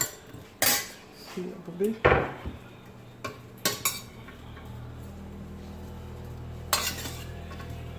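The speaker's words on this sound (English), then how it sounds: "I'm gonna go ahead and add the onions and the garlic." Onions and garlic go into a pan of melting butter for Jamaican callaloo and saltfish, bringing a run of close metallic clanks and scrapes of a utensil against the pan, with a brief spoken phrase among them.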